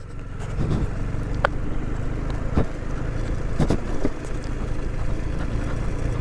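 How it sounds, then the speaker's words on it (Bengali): A motorcycle ridden off-road over loose stones in Ladakh, its engine a steady close rumble with bumps and jolts from the rough ground, running continuously without speech. "অফরোডিং বাইক চালাচ্ছি"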